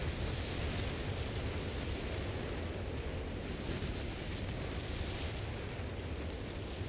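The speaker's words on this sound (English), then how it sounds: "Opening fire with all the rockets they have at their disposal." A rocket barrage in a real-time strategy battle game pounds as a continuous, dense roar of overlapping explosions, steady and loud throughout with no clear pauses.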